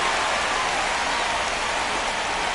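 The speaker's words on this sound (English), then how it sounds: "This rain is not letting up." Steady, loud rain pours down at a baseball game, a dense unbroken hiss with faint crowd noise underneath and no talking.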